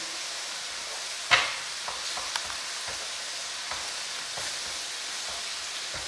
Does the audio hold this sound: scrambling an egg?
yes